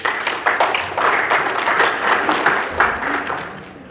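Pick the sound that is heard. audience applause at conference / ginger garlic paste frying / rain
audience applause at conference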